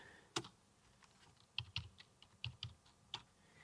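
A password is entered on a computer keyboard, heard as sparse, quiet, distinct key clicks in small clusters with short pauses between them, close by and without speech.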